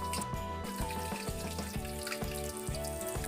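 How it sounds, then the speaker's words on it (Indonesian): Tempeh frying in hot oil gives a steady, close sizzle and crackle throughout, with background music playing underneath. "Kemudian goreng tempe sampai berwarna kuning keemasan"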